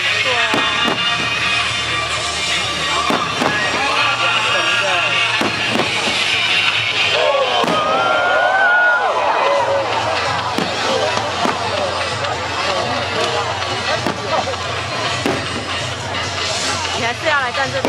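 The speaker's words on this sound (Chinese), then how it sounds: "你还是要来站这边才欣赏得到烟火" Fireworks at the Luermen Matsu temple's 2012 show crackle and thump in repeated sharp bursts across a busy outdoor crowd, with people talking nearby throughout.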